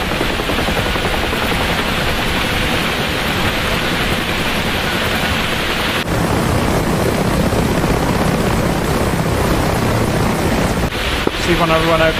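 Huey helicopter flying in the DCS World combat flight simulator during a mountain base strike, a loud, steady rotor and engine roar filling the whole stretch.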